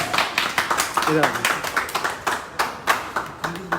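Audience clapping at a live Hindi event, a burst of sharp, irregular handclaps from a modest crowd, with a voice speaking over parts of it.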